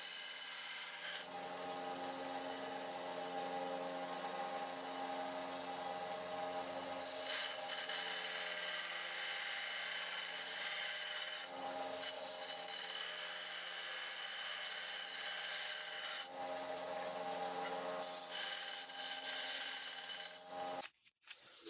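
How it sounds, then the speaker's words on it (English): A small belt sander grinds steadily against the edges of a metal half-round leather cutter, a continuous close rasp that shifts slightly in pitch as the piece moves, ending in a few clunks. "take this to the little belt sander and tidy up the edges"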